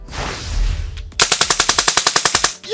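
A Tippmann M4-22 Micro Elite airsoft pistol, running on HPA or CO2, fires BBs in a fast even string of about fourteen sharp, close, loud pops with no talking, after a short stretch of muffled handling noise.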